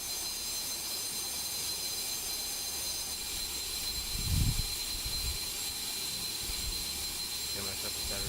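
A spaceship engine in Star Citizen idles and taxis on a runway, a steady, broad jet-like roar with a high whine, constant and even, with a brief low thump midway and someone talking over it.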